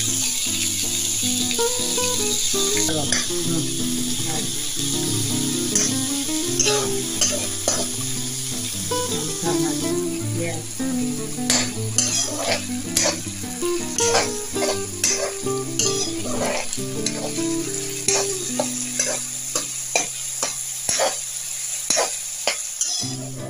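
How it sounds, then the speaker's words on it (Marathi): Chopped capsicum and onion frying in a pan, a steady close sizzle punctuated by frequent sharp scraping and tapping strokes from stirring throughout. "शिमला मिरच आता कांद्याबरोबर चांगली भाजून घेतलेली आहे"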